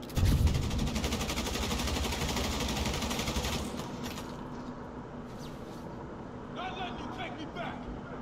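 Rapid gunfire bursts from the Marvel's Spider-Man video game on PC, loud and dense for the first few seconds under someone talking, then fading into quieter game ambience.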